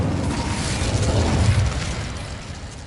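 Casting the Incendio fire spell in Hogwarts Legacy produces a roaring, rumbling burst of flame with a whooshing blast that swells and then eases off over a few seconds, close and loud, with no talking.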